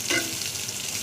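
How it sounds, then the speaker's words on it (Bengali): Stuffed pointed gourds, filled with coriander leaves, onion and leftover spice mix, sizzle in hot oil in a pan. The frying hiss stays steady and close for about a second, with no voices. "ভাজা হচ্ছে আস্তে আস্তে"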